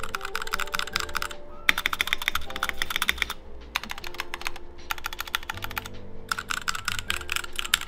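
Rapid clacking of an Icky 68 mechanical keyboard, typed in bursts with short pauses between, close and crisp with no talking.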